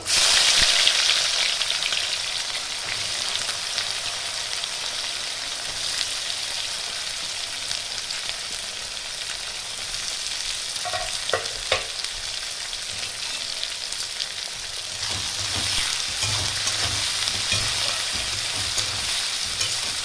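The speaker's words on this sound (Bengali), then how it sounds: "পেঁয়াজটা একটু ভালো করে লাল করে ভেজে নিতে হবে।" Chopped onions fry for a Bengali mutton curry with bay leaf, dried chilli, cinnamon, cardamom and cloves, giving a steady, close sizzle throughout with a few brief clinks of stirring near the middle.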